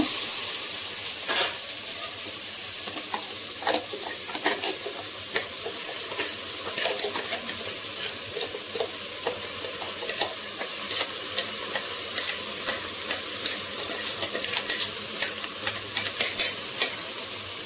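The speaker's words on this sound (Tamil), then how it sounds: "கொஞ்ச நேரம் அடுப்பு வந்து குறைவான தீ வச்சு வதக்கிக்கலாம்" Mixed vegetables sautéing in oil with ground masala for a vegetable masala kari kulambu over low heat: a steady close sizzle and hiss with frequent scraping stir strokes throughout, no talking.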